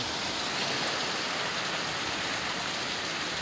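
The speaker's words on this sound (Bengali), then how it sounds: "উফ, বৃষ্টি ঝাপটা মারছে।" Heavy rain lashing in through an open window, a dense, steady roar of falling water and spattering drops that holds evenly at full strength throughout, with no voices.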